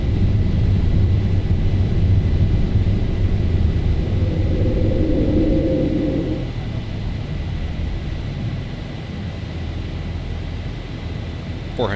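A LOT Boeing 737-800NG climbs out just after takeoff, with loud steady engine roar and broadband rush dominating throughout; a brief mechanical whine from the landing gear retracting rises midway, then the noise settles slightly lower.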